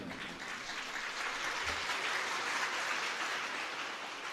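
Steady audience applause at a spiritual discourse on Shiva, a dense wash of many hands clapping at moderate distance, sustained and even with no talk over it.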